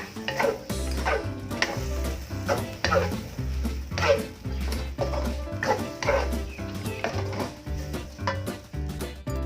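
Clams stir-fried with holy basil in a pan make a steady sizzle, broken by rhythmic scraping and clanking as a utensil stirs, close and loud throughout, with no talking.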